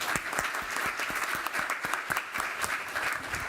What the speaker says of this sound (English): I want to applaud them